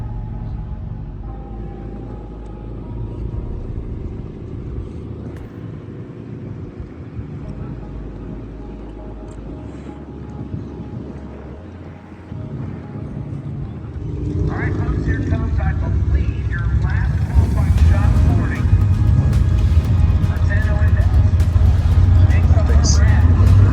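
A drag racing car makes its run at a Summernats USA car show, starting as a distant rumble and swelling into a loud, continuous engine roar that lasts to the end, with people talking over it.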